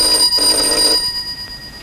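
A telephone rings in a short, loud electronic tone with steady pitched harmonics that fade after about a second, with no talking.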